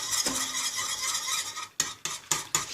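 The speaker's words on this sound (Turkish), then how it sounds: "tam krema kıvamına gelesiye kadar karıştıracağız böyle ocakta" A milk, sugar, flour and wheat starch cream mixture is stirred in a pot on the stove, with quiet stirring followed by several distinct scraping strokes against the pot.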